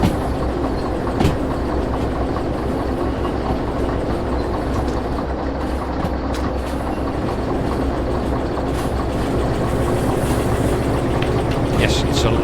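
A train rolls steadily along rails in the Derail Valley video game, a continuous close rumble with faint clickety-clack and engine drone lasting throughout.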